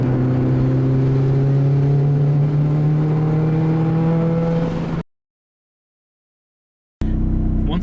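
A turbocharged Mazda Miata pulls hard under boost, its engine note rising steadily and loudly for about five seconds before cutting out, then returning briefly.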